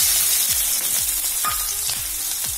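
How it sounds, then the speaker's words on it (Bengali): Chopped onions fry in leftover fish-frying oil with a constant, close, crackling sizzle. Regular scraping stirs of a spatula cut through it roughly every half second. "মাছ ভাজা তেলের ভিতরে এখানে দুটো পেঁয়াজ কুচি করা আছে,"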